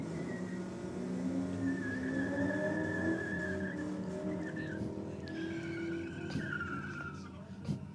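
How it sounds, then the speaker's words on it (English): Race car engines rumble at a distance with rising and falling revs and tire skids, a moderate layered drone with voices faintly in the background. "it's good to hear engines fired up"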